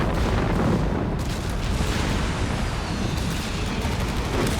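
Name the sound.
heavy mortar air burst shelling in Company of Heroes 3 video game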